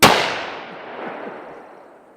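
A single sharp handgun shot fired outdoors in the woods, a loud close crack with a long decaying echo trailing off over two seconds.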